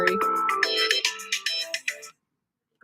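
A phone ringtone chimes during a conversation, a bright electronic melody of rapid repeated tones for about two seconds before cutting off abruptly into silence, loud and close with no talk.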